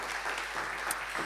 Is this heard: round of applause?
yes